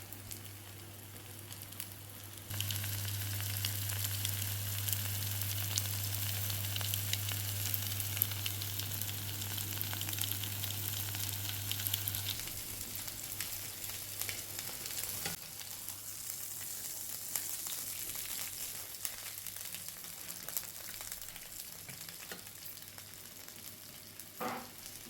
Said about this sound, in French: Et je vais le faire cuire de chaque côté